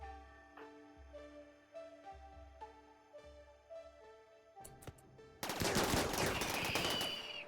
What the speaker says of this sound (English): I would like for you guys to shoot these things